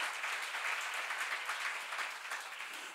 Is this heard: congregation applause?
yes